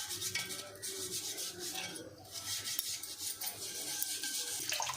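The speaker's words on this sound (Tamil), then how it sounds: "நான் அந்த ஓரமாக வர்ற அந்த கேப்புக்கு மட்டும் ப்ரஷ் யூஸ் பண்ணுறேன்." A brush scrubs brass pooja vessels during cleaning, a close, quiet, continuous rasping rub with slight wet clinks, steady and unbroken.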